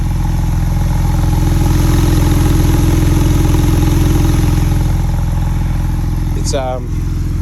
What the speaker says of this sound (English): going back out here now while it's running, just taking a walk around, very different sounding machine